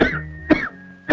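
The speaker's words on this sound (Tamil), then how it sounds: "ஐயோ இப்படி இருமுறீங்க?" Three harsh coughs from a man, spaced about half a second apart, loud and close, with a steady tone running underneath in a comedy film scene.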